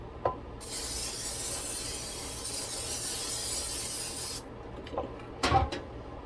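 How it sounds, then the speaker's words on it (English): A steady hissing spray of oil into a loaf pan runs for about four seconds, followed by a few light clanks and taps. "now I'm going to spray my pan with the oil"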